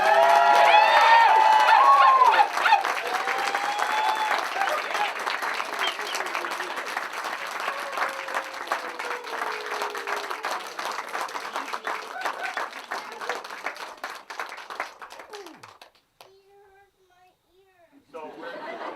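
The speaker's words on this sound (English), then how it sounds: "Who here wants to join me with yells, claps, whatever you will choose to use to pronounce these two as a married couple?" Wedding guests clap and cheer for the newly pronounced married couple, a loud burst of applause with yells that gradually thins out, children's voices audible in the crowd before it fades to near quiet.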